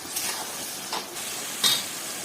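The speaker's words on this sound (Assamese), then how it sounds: "এতিয়া মই এই মছলা সামগ্ৰীখিনি গোটেইখিনি দি দিছো লগতে মই ভাজি ল'ম গোটেইখিনি" Whole spices fry in a pan as the base of a goat meat curry, giving a soft, steady sizzle and hiss with a few louder bursts of crackle as the mixture is stirred.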